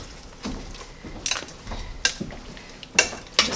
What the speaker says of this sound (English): Just kind of stir things around a little bit.